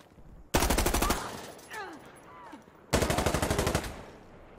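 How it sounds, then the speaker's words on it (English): Automatic gunfire in the shooter game Insurgency: Sandstorm, fired through a wall in two loud rapid bursts with a pause between, where faint voices and scattered game sounds come through. "he's shooting through the wall"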